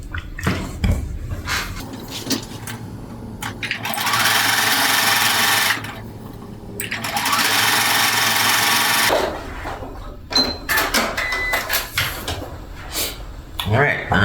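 A sewing machine stitches quilt pieces in two sustained bursts of rapid whirring, each lasting a couple of seconds, with handling clicks and rustling of fabric before and after.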